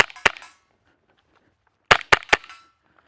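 A LEGO airsoft gun fires from the hip in four sharp, close snapping shots, one alone and then a quick burst of three, with near silence between.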